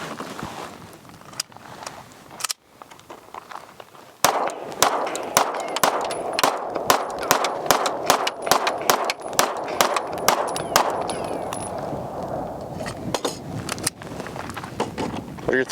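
A Glock pistol fitted with a PMM Micro Comp fires a long string of sharp, loud shots in quick succession outdoors, with a voice briefly talking before the string starts.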